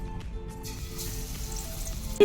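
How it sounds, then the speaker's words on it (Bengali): Battered eggplant fritters (beguni) frying in hot oil in a home kitchen, a steady close sizzle and hiss with light crackles, ending in a brief louder knock. "মায়ের এখানে বেগুনি ভাজা চলছে"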